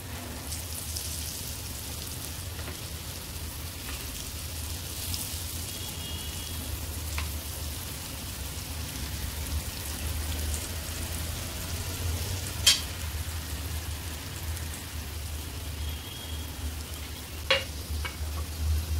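Sliced potatoes (batata kaap) frying in oil give a steady, low crackling hiss throughout, with a few faint clicks.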